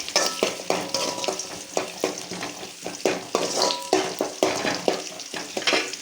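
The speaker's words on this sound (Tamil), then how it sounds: "சின்ன வெங்காயம் பெரிய வெங்காயம் சேர்த்து தான் வதக்கிட்டுருக்கோம்." Shallots, onions and garlic sauté in a pan for a banana-flower chutney, with a steady close sizzle and repeated scraping stirs of a utensil against the pan, no voices.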